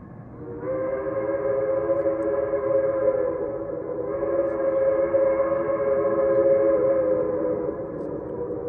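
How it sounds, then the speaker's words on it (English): A New Hope & Ivyland Railroad train whistle sounding for the Lower Mountain Road crossing on a Santa Claus Special, one long steady chord-like blast with a brief dip midway, loud and carrying, no talk. "Let's listen to that whistle blowing for the Lower Mountain Road crossing."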